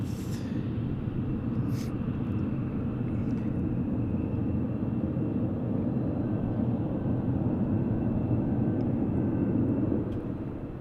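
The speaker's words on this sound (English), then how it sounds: "can hear the F-16s" F-16 military jets at Tucson International Airport give a steady, loud broadband roar of jet engines that holds throughout, with a faint whine above the rumble and no talk.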